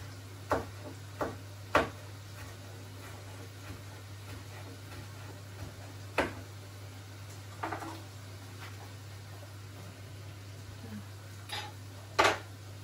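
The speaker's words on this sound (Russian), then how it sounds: "уберу всю посуду отсюда" Scattered clinks and clatters of dishes being moved and stacked, sparse and irregular, over a steady low hum.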